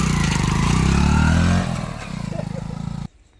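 Motorcycle engine running loud and close, a heavy revving drone that drops to a rough idle rumble after a second and a half, then cuts off abruptly.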